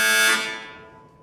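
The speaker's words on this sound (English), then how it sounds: "Buzzer number 3." A quiz contestant's electronic buzzer sounds at a university capital-markets challenge, one loud sustained harsh tone that fades out over about a second, with no voices over it.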